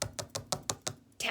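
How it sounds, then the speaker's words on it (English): Sharp rhythmic tapping on a window, about seven quick even raps in a row, close and fairly loud. "Mole rapped on Bear's window."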